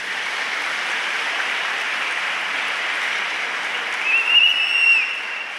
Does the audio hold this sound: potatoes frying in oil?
no